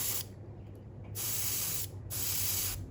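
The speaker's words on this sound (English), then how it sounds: "just very lightly spray some under" An airbrush sprays paint onto a Pink Horror miniature in light bursts, a close, hissing spray coming in three or four on-off pulses of roughly a second each, with no talking.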